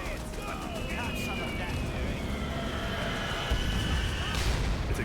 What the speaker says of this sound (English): All I hear is explosions.